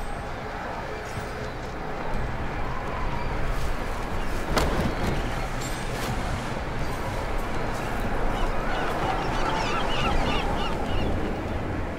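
Game birds honking in Deus Ex: Mankind Divided, set in Dubai, a steady busy chorus of goose-like calls running throughout at moderate loudness over dense ambient noise.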